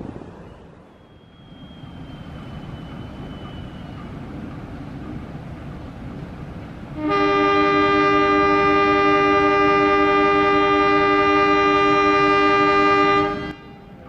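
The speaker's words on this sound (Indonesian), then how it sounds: "Next kita tunggu kereta api lokal Cibatuan berangkat dari stasiun Cibatu." A loud train horn blares steadily for several seconds over the rumble of a local train's engine departing Cibatu station, close by, after a stretch of low mechanical noise.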